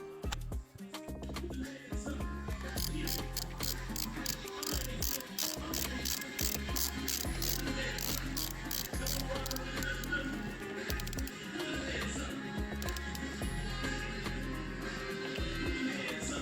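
Speed sensor being bolted onto a 2023 Ducati V4 motorcycle, with a long run of rapid ratchet-wrench clicks over a continuous mechanical whir, close and steady, with no talking.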